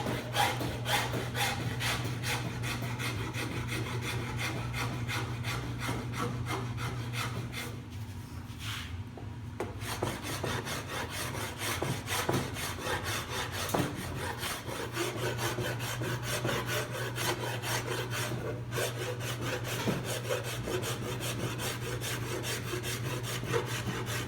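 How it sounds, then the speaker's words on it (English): A Japanese Iwasaka file carves wood from the neck of a seven-string multiscale fanned-fret guitar, making steady, close rasping strokes in an even back-and-forth rhythm that pauses briefly midway, with no talking. "I'll switch to one of my Japanese Iwasaka files and continue carving away wood"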